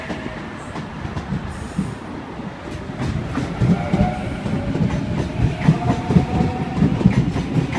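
A Sydney Trains Waratah electric train runs along the rails near Milsons Point, a loud steady rumble building with rhythmic clickety-clack wheel beats and faint squealing tones.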